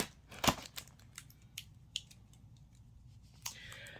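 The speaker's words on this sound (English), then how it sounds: "let's go ahead and open this. We just have some scissors here" Scissors snipping through package material at close range, a sharp loud cut followed by several softer, scattered snips and crinkles over a faint room hum, with a rustling burst near the end.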